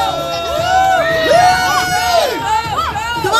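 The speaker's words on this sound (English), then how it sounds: "Cheer him on, cheer him on." A lively crowd cheers and shouts at a pie eating contest, with high excited whoops and children's voices overlapping continuously and loudly throughout.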